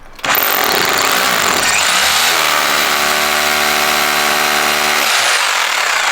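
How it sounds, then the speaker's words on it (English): Power drill boring four 6mm holes into a brick wall to fix a security light box, a loud steady whining motor roar with a drill tone starting near two seconds and running until about five, then the motor winding down. "And now drill the 4 6mm holes that we marked earlier for the screws to hold the box on the wall."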